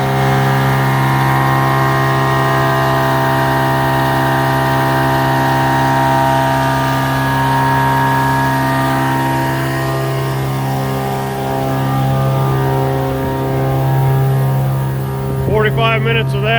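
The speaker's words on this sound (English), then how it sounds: "Anyhow, blowing cement, that's my project for today." A truck-mounted blower pumping cement, loud and steady, with a sustained droning mechanical hum and strong tonal harmonics that hold through the whole stretch, rising briefly near the end.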